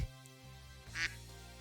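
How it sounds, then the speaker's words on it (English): One short duck quack rises over a steady background hum, brief and fairly close. "Is that a quack?"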